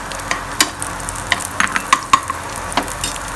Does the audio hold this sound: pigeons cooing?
no